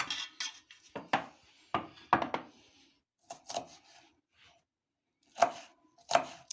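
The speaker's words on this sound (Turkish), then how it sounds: "Şimdi doğramaya başlayalım arkadaşlar" Sharp knife chops against a cutting board in irregular bursts while dicing green peppers, some quick runs of strikes and a few single knocks, close and moderately loud with no talking.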